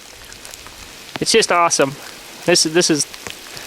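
Hail falling outdoors and pattering on nearby reeds, a steady fine hiss of light impacts that runs the whole time, fading under a man's speech in the middle and near the end.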